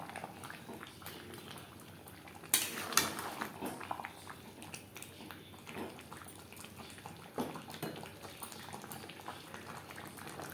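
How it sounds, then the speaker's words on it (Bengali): Fried potatoes stirred together with chicken in a pan for an aloo chicken curry, with a bubbling, wet simmer underneath, a few sharper scrapes and clinks of the spoon, and one louder stir near the middle. "চিকেনের সাথে আলু বেশ ভালো করে মিক্সড করে দেব।"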